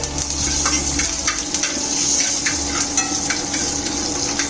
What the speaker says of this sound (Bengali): এটা দেওয়ার পরে এটাকে আমি হালকা করে নেড়ে নিচ্ছি